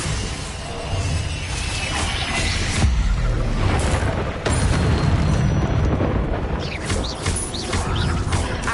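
Bombarda explosion spell in the Hogwarts Legacy video game, a long rolling rumble of blasts mixed with mechanical creaks and scattered crackling debris. It stays loud and continuous throughout, and nobody speaks.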